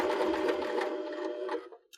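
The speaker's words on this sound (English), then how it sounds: "And now we will forward stitch." Sewing machine forward stitching a cork strap on a purse, a loud, close, steady whirring buzz of rapid needle strokes that runs for nearly two seconds, then stops with a few small clicks.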